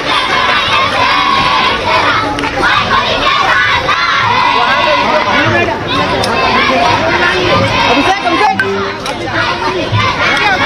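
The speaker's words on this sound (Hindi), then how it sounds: "एजाज जी हमारे मुख्यमंत्री जी जोरदार ताली बजा के स्वागत और सत्कार करबो भाई" A large crowd at a Chherchhera festival event in Chhattisgarh cheers and shouts continuously, loud and close, with children's voices prominent and chatter mixed in throughout.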